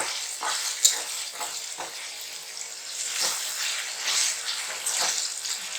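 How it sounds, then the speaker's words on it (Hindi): Onion, green chili, garlic and ginger frying in a pan for aloo bhurta, with soft crackling sizzle and occasional stirring scrapes, fairly quiet and close with no talk. "प्याज हरी मिर्च फ्राई हो रही है अच्छी तरह से।"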